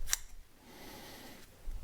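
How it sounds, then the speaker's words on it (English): A single quick snip of kitchen scissors cutting through chives, close and crisp, followed by quiet room tone. "scissors, best way to do it."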